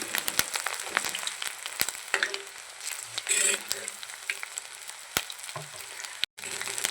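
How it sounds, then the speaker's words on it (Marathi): Chili bhaji (cut green chili fritters) frying in hot oil in a pan, a steady crackling sizzle with occasional sharp pops and clicks, fairly close and moderately loud, with no one talking. "आपलं तेल तापलेलं आहे असे भजे ह्यात सोडून घ्यायचे"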